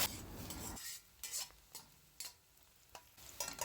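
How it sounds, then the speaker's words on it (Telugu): Chopped onion with ginger and garlic frying in a pan gives a soft sizzle, with intermittent scraping stirs and light clinks of a spoon against the pan, quiet and close. "ఆనియన్ కూడా యాడ్ చేసి ఆనియన్ గోల్డ్ కలర్ వచ్చేంత వరకు ఫ్రై చేసుకోవాలి"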